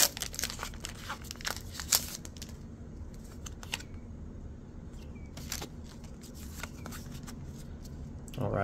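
A Pokemon card booster pack from a Scarlet and Violet Elite Trainer Box being torn open, close crinkling and ripping foil in quick irregular bursts, loudest at the start then quieter rustles.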